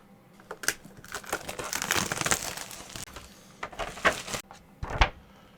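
Plastic packaging of a Mosiso 15-inch MacBook Pro case cut and pulled open, with close crinkling and crackling in irregular bursts and short pauses.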